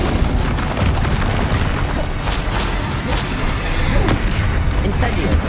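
Bombarda blasting spell cast in Hogwarts Legacy gameplay, heard as a dense, loud stretch of booming, crackling explosions that roll continuously, with sharper bursts breaking through near the end.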